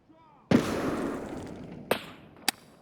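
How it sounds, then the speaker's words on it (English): A grenade in a video game goes off in one sharp, loud blast that rumbles and decays over about a second, followed by two fainter crackling pops. "He just threw a grenade"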